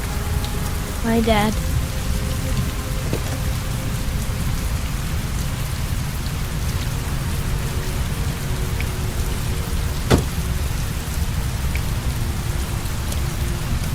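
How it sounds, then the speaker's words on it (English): Steady heavy rain pours throughout in the video game Heavy Rain, a dense constant hiss with a brief brighter crack near the end; a voice briefly speaks over it early on. "Heavy rain. It's been the same for weeks."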